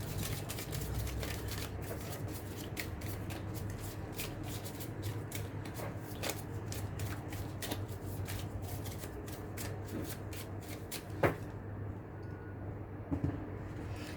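Tarot cards are shuffled and drawn in a steady run of crisp riffling flicks and soft rubs, with a couple of sharper snaps near the end and no talking.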